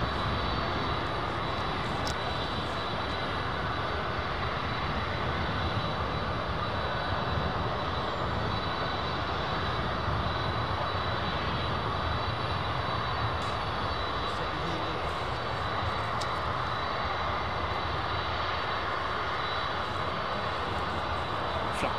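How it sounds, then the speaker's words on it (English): A Boeing 747 freighter at Miami International Airport, flaps and slats extended, sends a continuous, even jet-engine roar at moderate distance for the whole stretch, with no talk over it. "Flaps and slats are extended on this jumbo."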